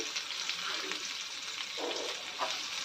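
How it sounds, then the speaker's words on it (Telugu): Chopped onions and mustard seeds fry in hot oil for a fenugreek-tomato curry, making a soft, continuous sizzle with a few faint crackles and no talking. "సన్నగా తరిగి పెట్టుకున్న ఉల్లిపాయలు వేసుకుంటున్నానండి."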